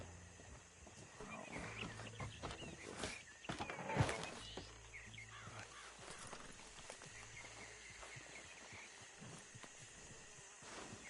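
Horse hooves clip-clop at a slow walking pace as a horse-drawn wagon rolls along in Red Dead Redemption 2, faint and steady beneath outdoor ambience of insects and birds, with one louder thump partway through.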